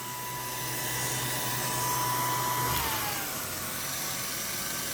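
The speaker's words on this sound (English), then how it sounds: "now we're going to show you this camera rewinding in reverse, putting it back on the original spool" A 1940s Revere Model 80 8mm film projector runs its reel in reverse, a steady whirring motor hum with a faint whine whose pitch drops partway through, heard alone at moderate level.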